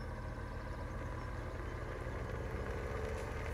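A 270 horsepower tractor engine idling in Farming Simulator 17, a faint, steady low diesel rumble throughout with no talking.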